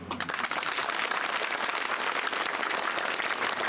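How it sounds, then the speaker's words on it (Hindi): A crowd at an outdoor election rally in Shivpuri, Gadi Barod, applauds steadily, dense clapping from many hands sustained at even volume throughout, with no talk over it. "तालियां थोड़ी कम बजी।"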